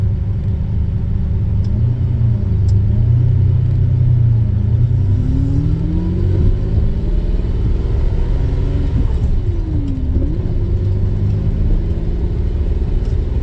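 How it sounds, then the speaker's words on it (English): A Lamborghini Countach runs continuously as it warms up, a loud, close, steady low rumble with a few gentle rises and dips in engine pitch and no voices. "It does take forever to warm this car up, which we've talked about, but it's mostly warm now."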